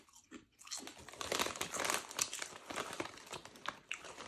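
A crinkly chip bag rustles and crackles up close, with loud dense bursts and some crunching of chips in between, and no talking.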